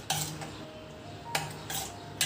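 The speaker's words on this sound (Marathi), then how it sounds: "आणि व्यवस्थित मिक्स करून घेऊया दह्याला" A spoon stirs yogurt in a bowl, giving a few sharp clinks and soft scraping, close by and quiet.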